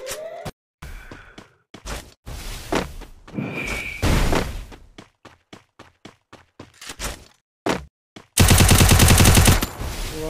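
Gunfire in the mobile shooter Free Fire, with bursts of single shots and short rapid volleys, a sustained loud automatic burst near the end, close and punchy with brief gaps between firings and no speech.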